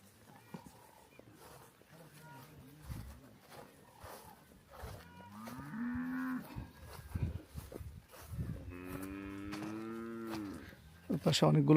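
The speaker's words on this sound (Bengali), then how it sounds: "গরু" Cattle on a large Ugandan ranch with thousands of head, lowing in several long drawn-out moos that rise and fall, some near and loud, with a person talking quietly between calls.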